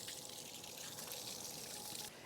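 Garden hose spraying water onto a hitch cargo carrier bag, a steady close hiss of spray pattering on fabric that cuts off near the end.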